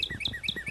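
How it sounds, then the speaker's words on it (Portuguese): Short, bright bird chirps repeat in a quick regular pattern, clear and close over a faint low background. "É um pássaro legal, Mini S"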